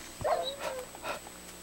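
A dog in a video game gives a few short, quiet barks and yips, brief and somewhat thin against a faint steady background tone.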